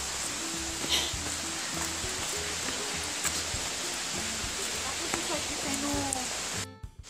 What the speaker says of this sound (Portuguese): A gente já vê a queda d'água, mas a gente vai descer ainda mais.